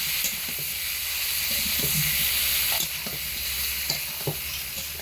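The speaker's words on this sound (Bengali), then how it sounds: "হালকা আঁচে বেগুনগুলোকে 3 থেকে 4 মিনিট সময় ধরে হালকা ভেজে নিয়েছি।" Eggplant pieces frying gently in oil over low heat, a steady close sizzle with occasional stirring scrapes and small pops, no talk.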